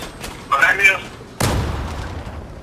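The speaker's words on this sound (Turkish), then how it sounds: "Bombayı niye üstüme attın?" A grenade bomb goes off in the Turkish online FPS game Zula, one sharp loud blast with a short rumbling tail, after a brief burst of in-game noise.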